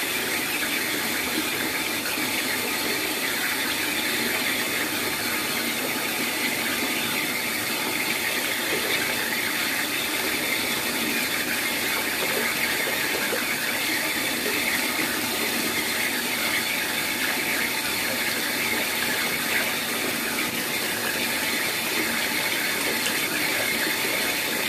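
Bath water running from a tap into a tub, a loud continuous gushing rush that holds steady throughout, with no talk.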